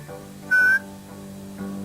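A shepherd's whistled command to a sheepdog for right: one short, sharp, rising whistle, loud and close, standing out against quiet background hum.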